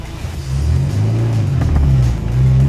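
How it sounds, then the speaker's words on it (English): A Mini car accelerates hard with wheel spin, its engine giving a loud, close, low droning rumble that rises and dips in pitch as it pulls away. "Oh, bit of wheel spin."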